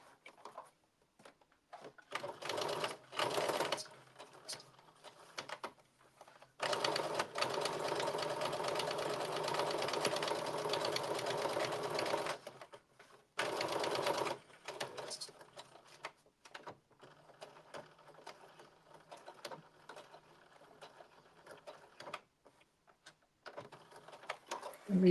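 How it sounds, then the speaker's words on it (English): A sewing machine stitches a dart on a blazer in several separate bursts, the longest running steadily for about six seconds, with quiet pauses and handling noises between runs and a person talking faintly in the gaps. "And you back stitch at the top of the dart."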